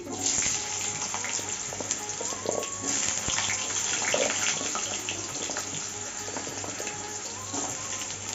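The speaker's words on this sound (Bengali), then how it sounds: "এখন আলুটা ভেজে নিচ্ছি" Potatoes frying in oil seasoned with bay leaves and five-spice for a Bengali labra vegetable dish, a soft continuous sizzle with watery bubbling, fairly faint and steady, no voices.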